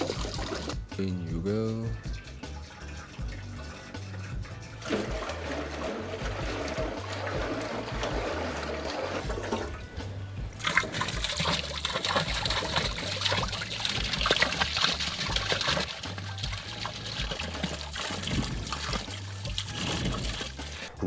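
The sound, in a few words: liquid being dumped out of a container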